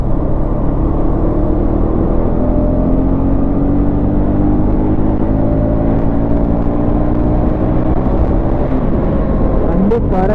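A 2025 KTM Duke 250 motorcycle accelerates hard, its engine note rising in steady, loud, close-up sweeps throughout with wind rush behind it.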